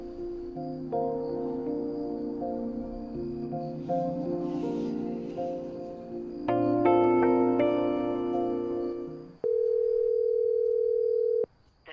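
After a number is dialled on a phone, a melodic tone sequence plays, then a single steady long tone holds for a couple of seconds before cutting off, clear and close with no speech.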